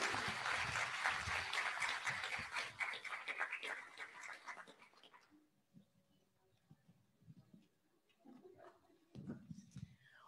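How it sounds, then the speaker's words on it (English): A crowd at an International Women's Day celebration in Kenya gives dense applause for about five seconds, then it stops abruptly, leaving faint murmurs and scattered quiet sounds. "A round of applause, ladies and gentlemen."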